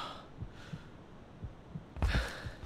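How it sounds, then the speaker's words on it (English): A soft, muffled heartbeat thumps at a slow, steady pace in the horror video game Cry of Fear, faint beneath a low hum before a louder burst near the end. "Can hear the heartbeat."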